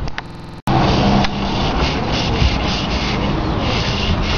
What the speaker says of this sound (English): I'll sand it back into the door